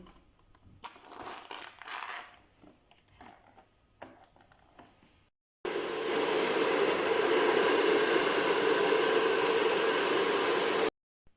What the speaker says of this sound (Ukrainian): Зараз я його переверну і за допомогою фену трішки підігрію.